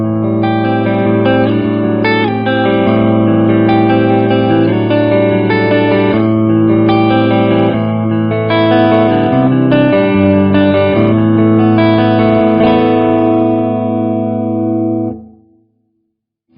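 Marshall JMD:1 50W 1x12 combo in green-mode clean, modelled on the JVM series, rings out chiming chords and arpeggios, close and steady with light reverb, ending in a clean fade to silence.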